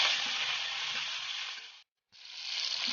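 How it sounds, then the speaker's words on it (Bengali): Tomato dropped into hot spice tempering in a wok gives a loud, close, hissing sizzle that breaks off briefly near the middle, then resumes just as strong. "আমি এবার কড়াইয়ের মধ্যে টমেটোটা দিয়ে দিচ্ছি"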